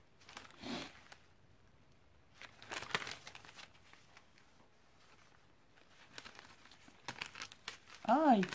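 Wrapping paper on a parcel crinkles and rustles as it is unwrapped, in three short bursts spread across the span, with a voice sounding briefly at the end.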